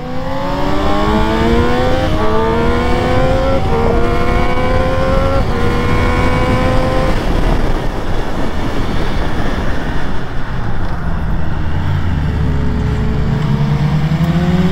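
A Triumph Speed Triple 1200 RS motorcycle on a race track, loud and high-revving, climbs steadily through several gears, each shift dropping the pitch before it rises again, then settles into a rougher roar.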